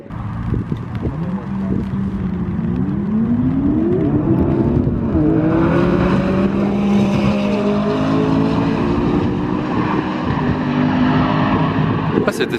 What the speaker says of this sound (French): y a un burn de P1 contre 675 LT qui arrive là